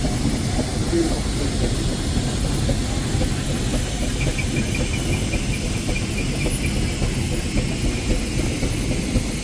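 An Italian-built steam engine at a West of England steam rally gives a steady mechanical rumble and hiss, with a faint high whistle-like tone partway through, running continuously at moderate loudness with no voices.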